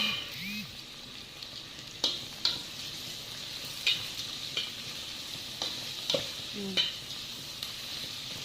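Sliced onions fry toward golden brown in a pan under a steady, close sizzle, with a spatula scraping through them in irregular strokes about every second.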